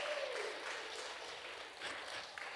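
Audience applause with a brief cheer for a judo medal winner at a church gathering, a steady wash of clapping lasting the whole stretch, moderately loud and fairly close.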